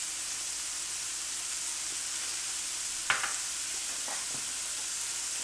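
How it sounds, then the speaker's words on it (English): Carrots and garlic sauté with melting butter in a pan for shepherd's pie, giving a steady soft sizzle throughout with one sharp utensil knock and a couple of faint scrapes. "I wanna use that to saute the vegetables"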